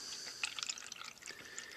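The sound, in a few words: water poured into cups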